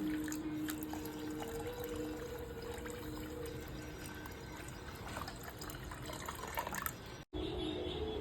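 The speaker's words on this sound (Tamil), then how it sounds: "அளவுக்கு தண்ணி ஊற்றிக்கணும்" Water splashes and trickles steadily into a container while making rasgulla, for several seconds, with a brief gap near the end before the flow resumes.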